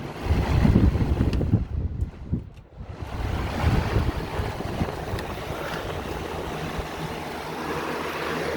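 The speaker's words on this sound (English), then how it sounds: "the noise of fans constantly blowing is not good" A steady, loud whoosh of air from an electric fan running close by, continuous apart from one brief dip.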